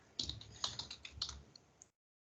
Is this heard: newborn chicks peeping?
no